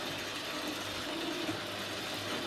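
Noisy electric roller garage door motor with a faulty gearbox grinding as the door comes down, a steady loud mechanical ratcheting drone with faint clicking throughout.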